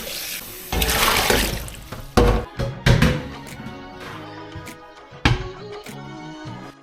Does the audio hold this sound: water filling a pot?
yes